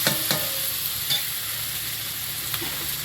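Prawns frying in oil with ginger-garlic paste, a steady close sizzle and hiss with a few soft stirring knocks, no voices.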